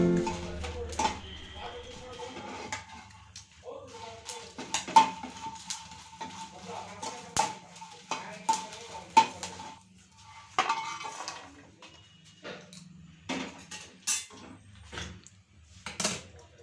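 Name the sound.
frying green chillies and garlic in a pan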